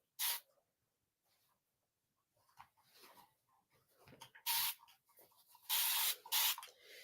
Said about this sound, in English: If you guys don't have this spray bottle, I tell you, these misters are just where it's at.